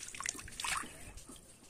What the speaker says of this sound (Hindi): ये अभी तक इसकी रेत निकली है, जो पानी 1 घंटे से चल रहा है।